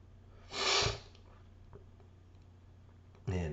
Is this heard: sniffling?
yes